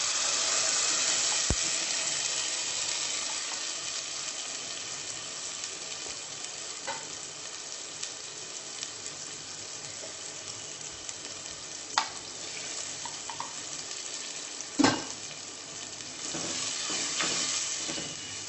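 Butter chicken gravy sizzles and fries steadily in a pan, a continuous hiss broken by occasional clinks and scrapes of stirring, with no talk over it.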